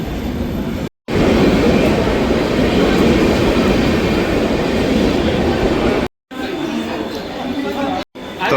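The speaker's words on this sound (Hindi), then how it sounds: "तो भाई अपनी ट्रेन लग गई।" The Vande Bharat Express pulls into a station platform on the Konkan Railway, making a loud, steady rumble and rolling clatter. Crowd chatter mixes with it, and brief cuts break the sound.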